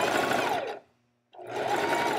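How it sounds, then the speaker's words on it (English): A sewing machine stitches fabric in a fast, steady close whir that stops briefly for about half a second and then starts again, no talking. "It's not good to sew over the pin"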